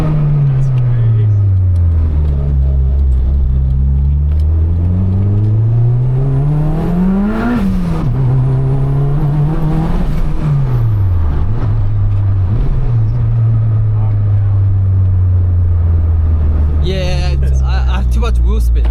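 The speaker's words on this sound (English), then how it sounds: "The revs are crazy." A car engine that has sat unstarted for over thirteen years runs close and loud, the engine note rising and falling through repeated revs and drops, with people talking over it.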